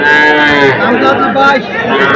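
Calves at Setabganj cattle market in Dinajpur, local Deshi and Sahiwal stock, lowing loudly and repeatedly at close range, with continuous calls overlapping over a dense background of market crowd noise.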